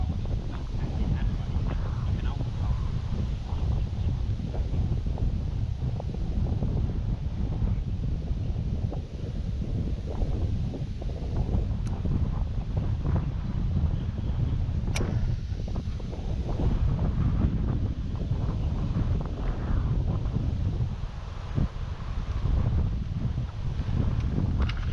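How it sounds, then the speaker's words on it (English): Strong wind gusts buffet the microphone at a fishing lake in Spain, a constant heavy low rumble with rushing texture lasting throughout, with no clear talk breaking through. "I hope you can hear me through this wind. Very windy."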